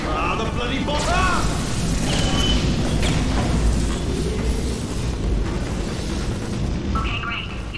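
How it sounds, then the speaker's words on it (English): A bomb blast in Portal 2 rumbles low and heavy beneath a continuous rush of game effects and mechanical noise, with a voice talking over it throughout. "Ah, the bloody bomb."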